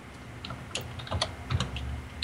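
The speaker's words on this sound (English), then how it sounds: "Kind of like the clacking sound in the background." A clacky computer keyboard is typed on in the background of a tech podcast, with scattered crisp key clicks at an uneven pace over a low room hum, fairly faint and with no talking.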